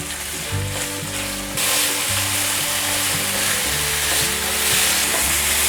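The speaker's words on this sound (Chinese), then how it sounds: "锅内放入少许橄榄油，冷油下豆腐， 把豆腐的水分炒干，" Tofu stir-frying in a little olive oil, a loud close hiss and crackle that swells after a couple of seconds and stays steady, with tonal hums and occasional spatula scrapes underneath.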